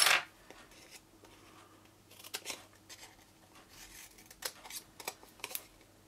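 Scissors snip through paper card while making a shimmery gold favour box, giving a series of short crisp cuts in uneven bursts, fairly close and quiet against a still room.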